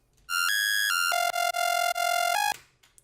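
A bright, buzzy synth bass preset, shaped by an envelope-mode LFO, steps through a few held pitches with quick rhythmic chops, loud and alone for about two seconds before cutting off.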